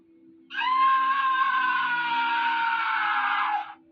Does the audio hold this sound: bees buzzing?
no